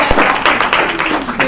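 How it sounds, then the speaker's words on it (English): An audience gives a round of hand clapping at a university open-house panel, a brief burst of many hands clapping close and loud with a voice over it. "I'm going to have to just stop and give Seamus a hand clap"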